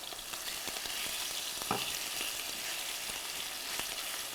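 Chicken thigh pieces sizzle continuously in a non-stick pan with a little extra oil, soft and even, with a brief scrape or clack partway through.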